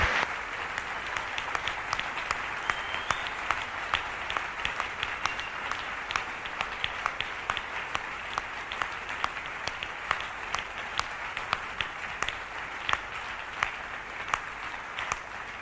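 A church congregation claps together for the Lord, producing sustained, dense rhythmic applause with crisp individual claps throughout, steady and fairly loud.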